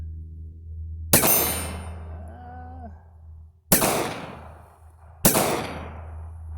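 Three sharp, loud pistol shots from a Ruger LCP II at an outdoor range, evenly spaced with quiet gaps between them, each shot cracking close by and then fading.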